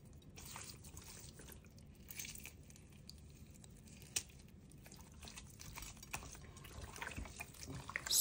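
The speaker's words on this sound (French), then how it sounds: "je viens rincer plusieurs fois à l'eau claire" Raw chicken legs being rinsed in clear water give off faint, irregular drips, splashes and wet squishes at close range, with no one talking.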